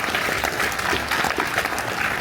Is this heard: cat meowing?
no